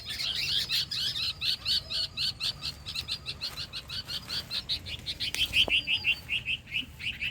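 Parent birds call anxiously over a chick that has fallen to the ground, a rapid series of high, sharp chirps repeating steadily and close by, with no talking.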